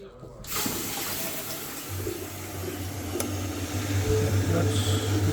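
Hot water runs from a tap fed by a Potterton Gold combi boiler, a steady rushing flow that gets a little louder as it goes on, with a brief clunk near the start and no speech.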